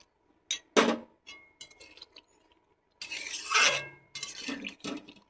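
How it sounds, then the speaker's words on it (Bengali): A glass of water goes into a pan of fried eggplant: a few light glass clinks and scrapes, then a brief hissing rush as the water hits the hot pan, close by and without talking. "এবার দিয়ে দেবো এক গ্লাস জল।"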